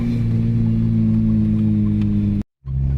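A car engine idles with a steady drone and an audible hiss, the sound heard up close and loud before cutting out briefly near the end.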